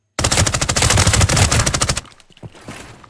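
Rapid automatic MP5 fire in Arena Breakout Infinite, a loud, close burst of about twenty evenly spaced shots lasting two seconds, then fading into quieter scattered sounds with no talking.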